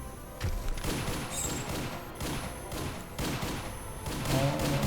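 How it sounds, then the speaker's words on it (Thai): Rapid gunfire from bandits in the Roblox game Age of Heroes, bursts of shots rattling almost continuously across the whole stretch at a steady, fairly loud level. "พวกโจรมันยิงเราได้แล้วนะครับ"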